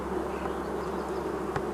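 Honeybees hum and buzz steadily at a hive, a dense, continuous drone with no voices, close and moderately quiet, with one brief tap near the end.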